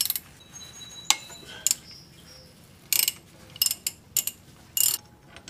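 Ratchet with a 5/8 socket backing out long mounting bolts on an mk7, sharp close clicking bursts at irregular intervals with brief metallic pings between them in a quiet space.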